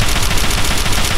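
Sustained, dense gunfire from the video game Fallout 3, a steady loud wash of rapid shots with no gaps and no talking over it.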